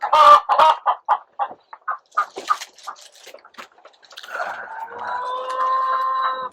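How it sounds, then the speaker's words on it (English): A hen clucks repeatedly in short, rhythmic bursts while laying an egg, then breaks into a drawn-out, rising cackle, loud and close with no talk. "The chicken's laying an egg."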